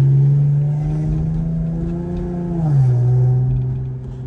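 An Infiniti G37 with a modified, muffled exhaust revs loudly and close up, a steady droning engine note that swells and then drops in pitch as the revs fall.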